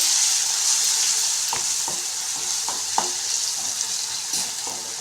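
Crushed raw garlic fries in hot oil in a pan with a bright, continuous sizzle as the base for a tomato roast, with several light taps of a spoon stirring, close up and with no voices.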